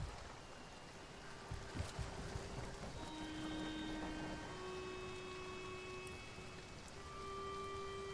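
Steady rain falls in the video game Divinity Original Sin, a dense continuous hiss with a few louder drops near the start, heard alone at an even, moderate level.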